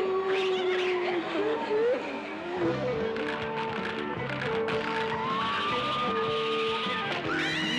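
Cat meowing in the 1977 Japanese horror film House, drawn-out tonal yowls that rise and bend over dense film music and effects, continuing through the whole stretch.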